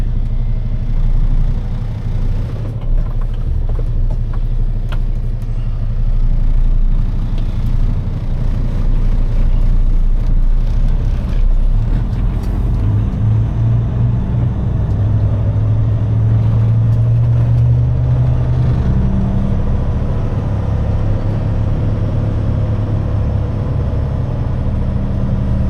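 Loaded semi truck on a rain-soaked road, its heavy diesel engine droning loudly and continuously nearby with a low rumble, while the pitch climbs briefly as it pulls away in gear.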